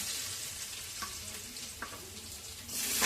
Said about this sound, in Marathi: पहिल्यांदा मी लसूण टाकून घेते